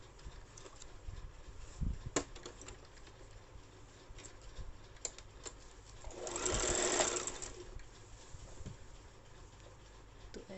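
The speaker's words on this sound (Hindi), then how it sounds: "पूरे में हम सिलाई लगा देते हैं।" Sewing machine stitching along a folded salwar waistband casing, a soft run of rapid stitching that rises for a second or two amid quieter handling noises and faint clicks.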